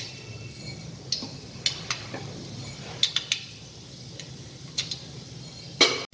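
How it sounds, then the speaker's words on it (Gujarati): Mustard seeds spluttering in hot oil in a pan for vegetable upma, sharp scattered pops and ticks that come irregularly over a faint low sizzle, close, with no talking. "હવે રાઈ તતડી ગઈ છે"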